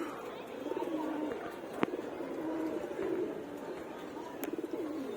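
Pigeons in a sky pigeon loft, including an army knot pigeon, cooing in soft repeated throaty rolls, close by, while someone talks over them.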